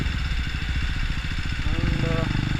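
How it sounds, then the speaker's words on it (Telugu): A KTM Duke 250 motorcycle engine runs steadily nearby with a throbbing exhaust pulse and a short rise in revs near the end, while a person talks over it. "ఆ ఏరియా రాగానే నేను ఒక్కసారి రేవిస్తాను బండిది, ఎగ్జాస్ట్ ఇది థ్రాటిల్ కొడతాను"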